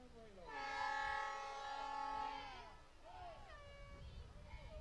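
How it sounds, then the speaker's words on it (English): A train horn sounds a sustained harmonic blast for about two seconds, then fades, with a shorter tone following amid background noise. "There went the train whistle."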